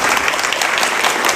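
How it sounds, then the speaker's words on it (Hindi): An audience applauds loudly to welcome a guest at a talk, dense continuous clapping filling the whole short moment without a break. "तो आइए जोरदार तालियों के साथ स्वागत करें"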